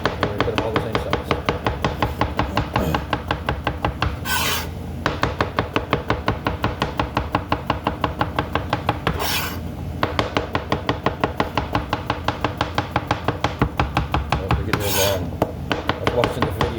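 A knife chops zucchini into equal pieces on a cutting board, giving a fast, steady run of close, crisp knocks with occasional brighter scraping swipes in between.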